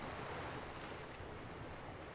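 Steady broadband wash of sea waves and surf, like a wide blue ocean in the video game Gray Garden, rolling continuously and evenly at a moderate level with no voices.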